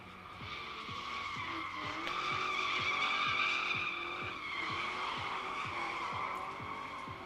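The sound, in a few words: Ford Mustang GT drifting with tire squeal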